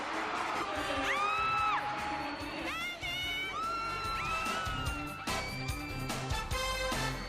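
Stadium crowd roaring with whoops, shrill cheers and continuous applause as David Beckham shows off his trademark ball tricks after arriving behind drum majorettes, a loud dense wall of sound throughout.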